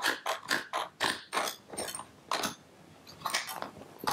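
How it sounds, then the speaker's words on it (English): Clamp being tightened on a Winchester 422 air rifle during a rebuild, giving a series of short, close mechanical clicks and creaks in an uneven rhythm with no talking. "And now we can clamp it."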